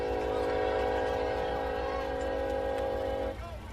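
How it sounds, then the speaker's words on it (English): A train rumbles past near an outdoor soccer field during a high school state semifinal match, its horn sounding long sustained tones over a low steady rumble that cuts off near the end. "We get a train coming through too."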